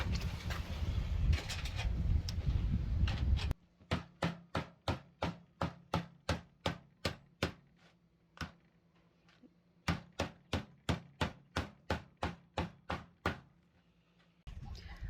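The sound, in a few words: hammering sheet metal at an angle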